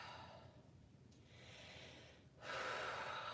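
Slow, deep breathing during a gentle restorative yoga relaxation: a soft, airy inhale, a quiet pause, then a fuller, louder breath through the mouth, close and alone.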